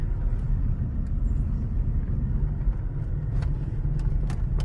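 Cars pass along a village road, a steady close road rumble of engines and tyres swelling and fading with a few faint higher ticks and no talk.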